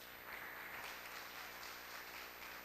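A church congregation applauding during a service, a faint, continuous patter of many hands clapping together with some room hum underneath, heard from a distance.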